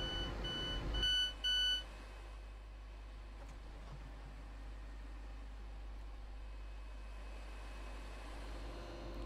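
A door-opening chime sounds in Train Sim World as a rapid transit train stands at a platform, a brief series of electronic beeps followed by a low, steady cab rumble.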